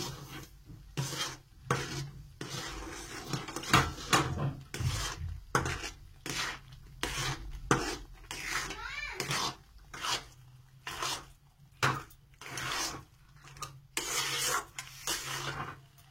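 Semolina being worked into sieved palm fruit pulp to form a stiff dough, heard as a steady run of rough scraping and rubbing strokes against a bowl, close and moderately loud, with short pauses between strokes.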